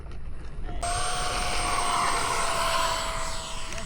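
An RC model airplane, a Raptor, flies at a model airfield, its engine giving a loud, steady high-pitched whine that holds constant tone throughout, with faint background hiss and no talk.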